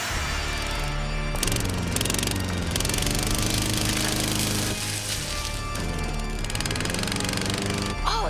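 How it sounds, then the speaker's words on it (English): A runaway lawnmower engine roars loudly and continuously, its pitch rising and falling as it speeds about, with clattering and rattling over the top. "The lawnmower went out of control."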